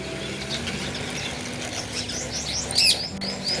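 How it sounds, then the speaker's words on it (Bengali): Morning birds, including pigeons, chirp and tweet outdoors, with scattered light calls rising into a brighter burst of tweets near the end over soft background noise. "কত ধরনের যে পাখি আসে সকালবেলায়"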